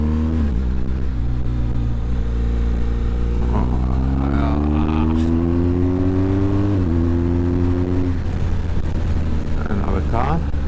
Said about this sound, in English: The bike revs when you downshift.